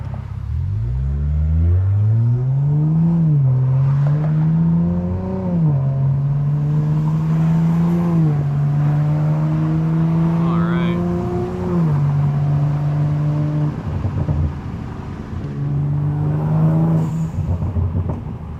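A Dodge Viper sports car engine hums and whines steadily up close during a hard pull, pitch rising and falling as it revs through gears, continuous throughout without pause.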